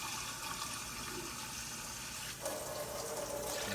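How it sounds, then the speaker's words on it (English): Water runs into a cooking pot for a chicken stock, a steady hissing pour that shifts in pitch as the pot fills. "Fill this up with water."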